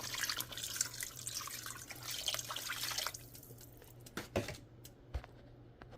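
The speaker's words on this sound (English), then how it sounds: "now we're going to add the 3 cups of water" Water running from a tap or being poured into a cooking pot while preparing kabsa, a steady stream for about three seconds, then scattered drips and splashes.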